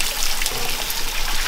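A forest stream flows right beside an outdoor spot where chicken is being grilled, a loud, steady, close-up trickling rush of water with no pauses.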